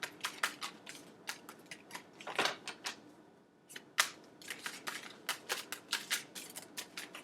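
Tarot cards being shuffled by hand, a rapid run of crisp papery riffles and flicks with a brief pause midway, close and fairly quiet with no talking.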